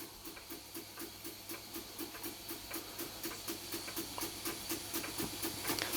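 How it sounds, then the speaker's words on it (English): A Weeden No.8 model steam engine runs under steam, chuffing in a quick, even rhythm of about four beats a second over a constant hiss, close and growing slightly louder. "So there we go, the Weeden No.8 under steam."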